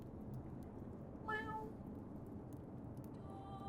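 A cat outside gives a single short meow, faint and distant, over a low steady background hum.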